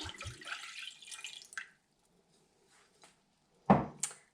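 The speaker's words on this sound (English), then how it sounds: "I take my rose water and I pour it in a pan" Rose water pours splashing into a pan for about a second and a half, followed by quiet, then a couple of sharp clanks.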